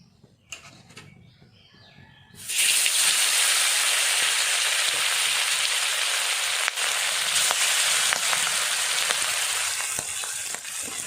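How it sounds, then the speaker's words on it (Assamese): After a quiet start, a loud burst of sizzling erupts as fish hits hot oil, then a dense, continuous frying hiss carries on. "তেলখিনি গৰম হৈ গৈছে। এতিয়া মাছখিনি ইয়াত দি দিওঁ"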